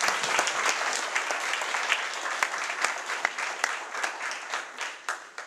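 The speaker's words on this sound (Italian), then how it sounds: "che salutiamo con un bel applauso" Audience applause at a bishop's introductory address, welcoming the new director of the diocesan Caritas in Lodi: dense, steady clapping from a large crowd, sustained throughout and easing slightly toward the end, with no voices.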